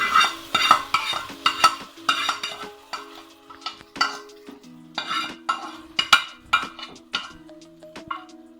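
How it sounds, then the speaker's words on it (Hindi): Rabri being stirred into caramelized sugar in a pan, a spoon scraping and clinking against the metal in steady, rhythmic strokes, close and fairly loud, with the heat already switched off. "अच्छे से कर लेंगे हम ये रबड़ी में इसे मिक्स"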